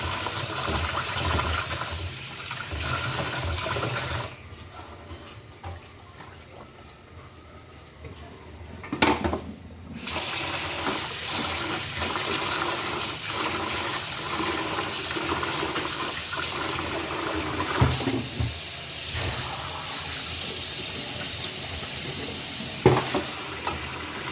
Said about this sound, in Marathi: तांदूळ मस्त आपल्याला स्वच्छ पाण्याने धुवून घ्यायचे